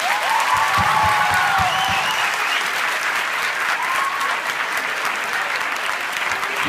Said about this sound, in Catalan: un fort aplaudiment per na Marisa